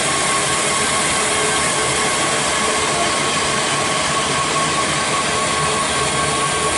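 Aircraft wing drive shafts in a museum exhibit at Aerospace Bristol give off a loud, continuous mechanical whir and rumble, steady and unbroken from start to finish.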